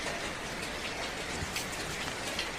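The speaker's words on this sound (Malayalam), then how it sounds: "മഴയും ഇട്ട് നല്ല കുളിരുമായിട്ടാണ് മഴയും ഇട്ടത്" Steady, close rain patters densely on a surface, a constant hiss with no other sounds.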